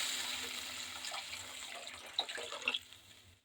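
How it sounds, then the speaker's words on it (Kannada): Water poured into semolina for uppittu, a soft running trickle with a few brief splashes and clinks near the end, fairly quiet and heard without speech. "ಈಗ ನೀರು ಹಾಕ್ಕೊತಾ ಇದ್ದೀನಿ ನೋಡಿ."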